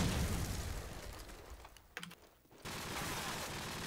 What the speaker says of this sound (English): I don't even know what's shooting me anymore. It's like everyone shooting at once.